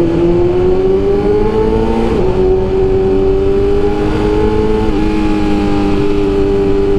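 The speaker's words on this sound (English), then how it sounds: "Naka-limiter kasi yung RPM nito guys, yung 2K RPM lang kapag naka-neutral, kaya hindi siya basta pwede bombahin." A 2022 BMW S1000RR sport bike held in neutral against its rev limiter gives a loud, steady engine drone heard up close, with small rises and dips in pitch and no talking over it.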